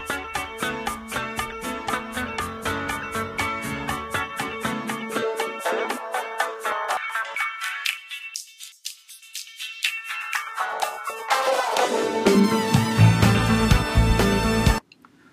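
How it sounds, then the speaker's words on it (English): A busy music sample in Ableton Live runs under a sweeping high-pass filter that thins out the low end until only a faint high sliver remains, then opens back up to full, dense sound before cutting off. "Applying a high-pass filter is essentially the same as applying a low-pass cutoff, and it would sound something like this."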